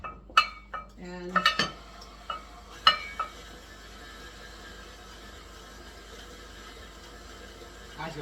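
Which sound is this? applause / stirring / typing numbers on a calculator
stirring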